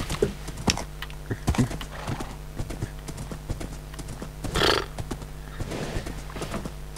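A person imitates a horse with quick clip-clop tongue clicks and a whinny-like burst, heard up close over Minecraft console game sounds.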